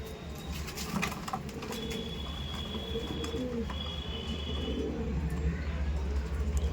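A pair of Andhra pigeons coos softly in a loft, low and fairly faint against a steady background hum.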